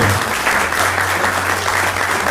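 Loud, dense crowd applause at a rock anniversary celebration in Villa Ángela, a continuous wash of clapping with a low steady hum underneath.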